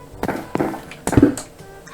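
A hammer strikes a door in Minecraft: three dull, blocky thuds spaced about a third to half a second apart, the last one heavier, followed by a brief crunch.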